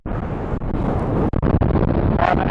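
Strong gusts batter a microphone outdoors on a snowy Devon coast, a loud, continuous roaring rumble with sudden dropouts and buffeting bursts.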